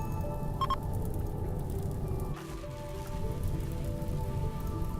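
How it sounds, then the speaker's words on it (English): Rain in the video game Rimworld falls in a constant soft patter of drops, steady and even throughout, with a faint tonal blip near the start and a brief dip midway, no talking. "Okay, rain. There it is."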